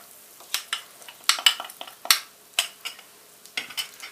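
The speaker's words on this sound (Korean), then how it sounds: "버터 밀가루 2큰술씩 동량으로 넣었고요. 계속 볶아서 갈색으로 만들겠습니다." Equal parts butter and flour being stirred and browned in a pan as a roux, with scattered scraping and tapping strokes of a utensil against the pan over a soft, low sizzle.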